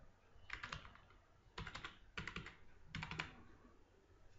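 A computer keyboard is heard as a password is typed, in four quick bursts of soft, close key clicks separated by short pauses, with no voices.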